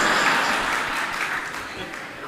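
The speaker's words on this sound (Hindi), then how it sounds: "ज्यादा जोरदार तालियां घरवालियों ने बजाई है" An audience at a Jain monk's spiritual discourse claps loudly in a dense, sustained burst that gradually tapers off.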